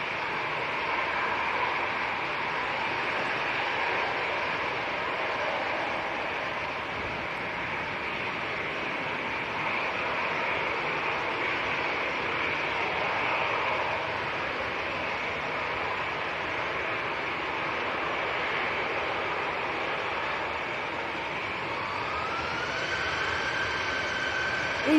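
An EasyJet airliner departs Manchester Airport for the Isle of Man, its jet engines a steady distant roar with a rising whine building toward the end, heard over windy outdoor ambience with no talking.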